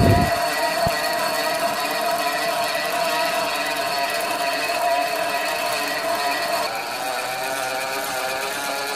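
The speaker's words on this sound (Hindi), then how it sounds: "ये देखें कितनी सफाई के साथ ये पंखा वेंड हो रहा है।" A homemade ceiling fan coil winding machine runs steadily, winding 32-gauge copper wire, with a continuous loud mechanical whir and hum holding an even tone throughout, no talking over it.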